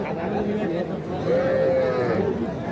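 Bull calves at a rural cattle market, with a drawn-out moo rising over the steady murmur of people talking nearby.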